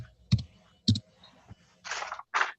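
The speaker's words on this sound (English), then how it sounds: "I think I heard you type that too." Sharp computer keyboard clicks during an online quiz session: a few separate keystrokes, then two short, rough bursts of typing, close and fairly clear.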